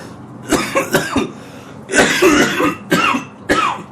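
A man coughs after smoking shatter wax: a string of harsh, close coughs in two bursts, the second longer and more ragged, with throat clearing between and no speech.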